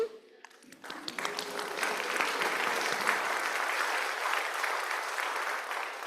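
Congregation applause at a church anniversary service, rising quickly from a quiet start into sustained, dense clapping from a sizable group that holds steady to the end.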